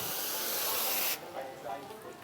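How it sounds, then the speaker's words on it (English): Tap water sprays and hisses loudly into bowls, pots and pans for cleaning butchered chickens on a homestead, cutting off abruptly after about a second, followed by quieter handling and splashing. "You want to fill up your containers that you're going to use, bowls and pots and pans, whatever you're going to use,"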